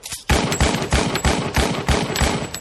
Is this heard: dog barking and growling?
no